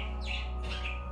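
Pet bird chirping indoors with bright, repeated tweets over a steady low household hum, close and fairly soft.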